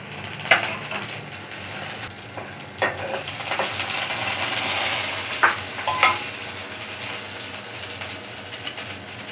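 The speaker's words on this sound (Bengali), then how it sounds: "টিস্পুন সর্ষের তেল দিয়ে দিয়েছি, অল্প একটু জিরে ফোড়নের জন্য দিয়ে দিয়েছি। এবার শুকনো লঙ্কাটা দিয়ে দিচ্ছি" Dried red chillies drop into hot mustard oil already tempering cumin seeds, giving a bright crackling sizzle with a few sharp spits and clinks of a spoon in the pan, fairly close and without talk.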